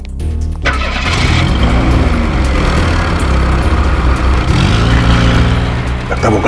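A car engine cranks and catches, then runs with a loud rumbling idle and revving swells close to the microphone, in a dramatic TV crime scene.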